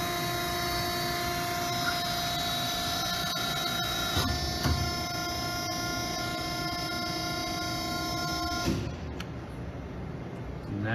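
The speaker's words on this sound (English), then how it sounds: "And that's a video of our 30-ton Wabash vacuum machine" A 30-ton Wabash GS30H-15-BLPX vacuum press with heated platens runs with a steady whine and layered tonal hum, a couple of knocks partway through, then the drone drops off near the end.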